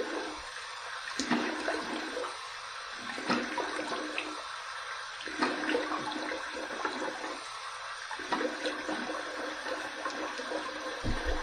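Tap water runs into a sink for rinsing after a shave with a safety razor, a soft steady stream with repeated splashy surges as water is scooped and thrown, fairly quiet and close, with no talking.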